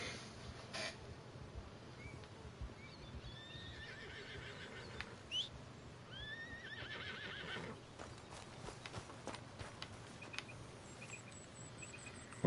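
A horse whinnies and its hooves clip-clop in an Old West frontier video game, quiet and fairly distant, with faint bird chirps over a soft outdoor ambience and no talking.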